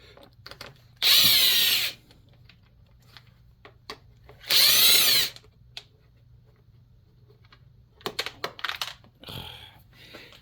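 A power drill whirs in two short, loud bursts while backing screws out of the rear panel of a Sportsman inverter generator, followed by rattling and clicking handling noises up close.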